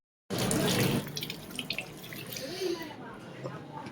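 Water from a tap runs into a sink as hands are washed, a steady close splashing stream beginning abruptly with a voice speaking over it.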